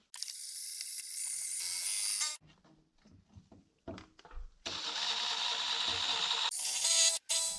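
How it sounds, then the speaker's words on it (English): Step bit driven by a drill to start a hole in a Cadillac 472 cylinder head, harsh whirring bursts near the start and end separated by a quieter gap with faint clicks and handling noises. "Let's try this thing, this step bit. Let's see if we can get us a hole started here."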